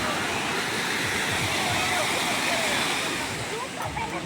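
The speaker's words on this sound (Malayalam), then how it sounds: "ഫസ്റ്റ് തന്നെ ചെറിയൊരു വെള്ളച്ചാട്ട സെറ്റപ്പ്" A small artificial waterfall at the entrance to a walkway near Robbers Cave (Gucchupani) in Uttarakhand gives a steady, close, broadband rush of falling water that holds even and continuous for the whole stretch, with no voices.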